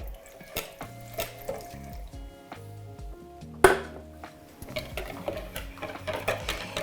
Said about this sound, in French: ma boisson végétale est tiède, je vais venir en verser une moitié sur mon jaune d'œuf tout en mélangeant